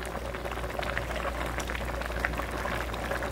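Kimchi stew with tofu, onion, hot chili and green onion boils steadily in a metal mixing bowl, a constant bubbling simmer with small pops, close and alone.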